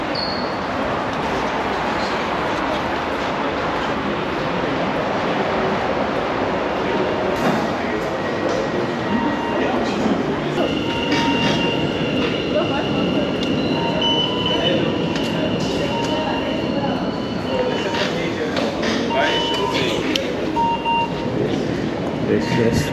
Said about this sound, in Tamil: மெட்ரோலேருந்து வெளியே வரோம்.